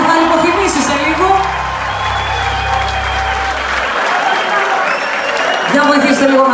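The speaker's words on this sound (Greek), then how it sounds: "Δώστε χειροκρότημα να δώσουμε λίγο θάρρος" A live stage show audience breaks into sustained applause with scattered cheers and whoops, loud and close, while a voice speaks over the crowd.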